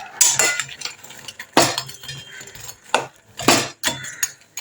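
Urad dal rosh bora are stirred in jaggery syrup, with a utensil knocking and scraping against the pot in several sharp, irregular clinks separated by brief pauses, close up and with no voices.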